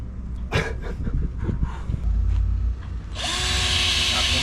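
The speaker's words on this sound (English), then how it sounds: "we're going to drill a hole in the bottom to take it out." Power drill boring a hole into the bottom of a salvaged catamaran's keel, starting abruptly after a few seconds of knocks and shuffling and running steadily and loud to the end.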